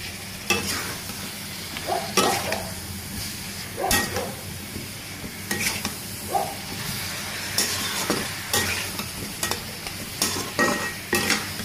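Raw banana being sautéed in a spice masala, stirred steadily in a pan for a village-style prawn curry, with a continuous sizzle and repeated scraping strokes of the spoon at a regular pace, close and loud.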